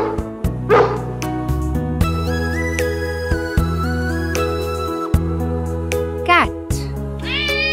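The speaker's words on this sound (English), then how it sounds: "A dog lives in a kennel." A dog barks a couple of times, brief and separated, over steady background music with a voice speaking.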